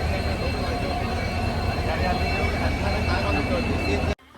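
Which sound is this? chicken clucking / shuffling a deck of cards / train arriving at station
train arriving at station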